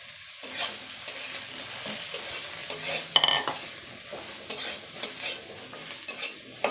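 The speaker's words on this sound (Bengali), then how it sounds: "এবার বেগুনটাও ভেজে নেব।" Eggplant frying in hot oil for a Bengali dried Bombay duck (loitta shutki) dish, a steady broadband sizzle with scattered crackles and pops, close and continuous throughout.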